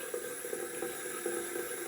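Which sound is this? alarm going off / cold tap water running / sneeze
cold tap water running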